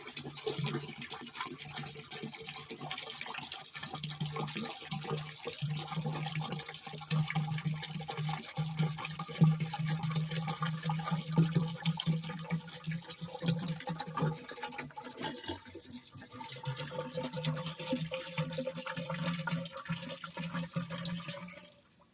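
Muriatic acid pours steadily into a container with a continuous, fairly quiet gurgling splash that lasts throughout.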